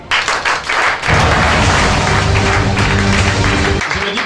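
A church congregation bursts into sustained applause acclaiming God, a dense, loud wash of clapping that starts about a second in and holds steady, with a held musical tone beneath it.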